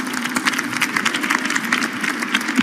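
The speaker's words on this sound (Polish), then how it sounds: "Wielkie brawa." An audience claps enthusiastically in sustained applause, a dense steady patter of many hands over a low background hum, continuing without a break.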